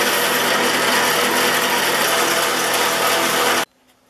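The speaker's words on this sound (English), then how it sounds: "You want your sandpaper to fit nice and snug when you go to clean out all the crud and rust that's in there." Sandpaper scrubs rust and crud off small parts of a Stanley No. 18 block plane in a loud, continuous rasping run that stops abruptly near the end.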